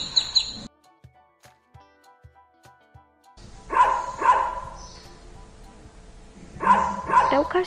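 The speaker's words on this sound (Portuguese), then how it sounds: "É o cachorro." A dog barks in two short clusters of sharp barks, fairly close and clear, separated by quieter stretches with faint clicks.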